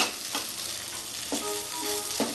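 Eggplant pieces fry in oil with a constant close sizzle and a few soft stirring scrapes, all fairly quiet and with no talk.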